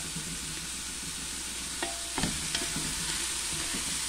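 Food fries in a pan while being stirred, a steady sizzle with scraping stirs and a few light clinks of a utensil against the pan, close and without talking.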